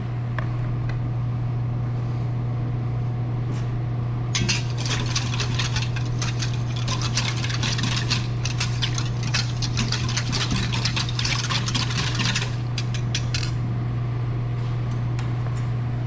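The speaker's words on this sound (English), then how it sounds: "And all we're going to do with this is whisk it." A sesame oil dip for Korean pa jeon is whisked in a bowl, producing a quick run of bright, rattling clicks in the middle stretch over a low, steady hum, with no voices.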